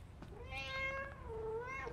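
A cat meows in the FNAF Into the Pit video game: one clear, drawn-out mew that rises, holds and falls, then a second shorter meow, close and alone over a low steady hum.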